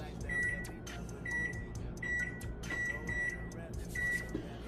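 A kitchen oven timer being set lets out a series of short, clear electronic beeps at irregular intervals over a low background of room noise.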